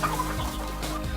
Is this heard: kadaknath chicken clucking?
yes